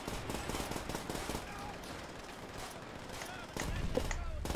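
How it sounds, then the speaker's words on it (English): A PPSh submachine gun fires in Call of Duty: World at War as dense rapid-fire bursts that run almost continuously, loud and close, with game battle noise around it. "Wow, I love the PPSH in this game."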